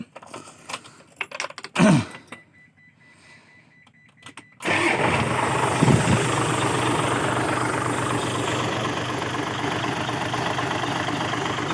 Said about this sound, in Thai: เราจะสตาร์ทเครื่องให้ฟังนะครับ